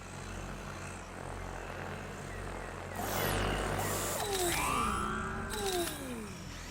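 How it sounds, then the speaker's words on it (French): Aerial drone from the Call of Duty: Advanced Warfare campaign, heard as a steady hum that rises into a louder whooshing fly-by with pitch sweeps midway, fading toward the end, no talk. "Mets le drone en place pour viser Hades"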